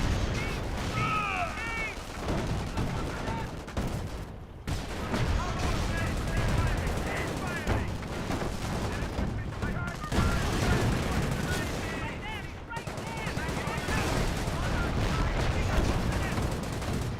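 Rapid gunfire and heavy tank shots crackle through a World War II strategy battle in Company of Heroes, with a British Cromwell tank firing amid dense, continuous bursts and explosions, loud and sustained throughout.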